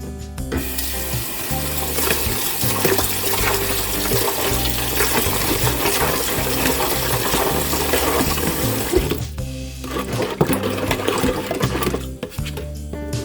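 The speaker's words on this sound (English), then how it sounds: "I'm going to add some tepid water to it and get this sugar dissolved in it." Steady running tepid water pours and splashes onto sugar, a continuous rushing stream that briefly dips before resuming, with no voices.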